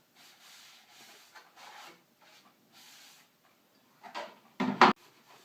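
Damp sponges rub and wipe clay slurry off a pottery wheel in several soft, separate passes, with a louder scrubbing stroke near the end.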